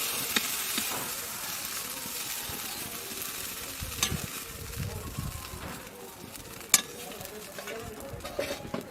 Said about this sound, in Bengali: মশলাটা ভাজা হয়ে গেছে, এবার মাংসের মধ্যে দিয়ে দেবো।